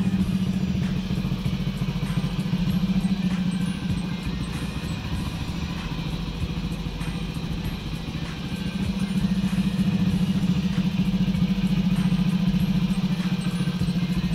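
A Honda Splendor motorcycle with about 24,000 km, suffering pickup and mileage problems, runs steadily during decarbonisation, its engine a loud continuous close-up drone with a light mechanical clatter and no pause.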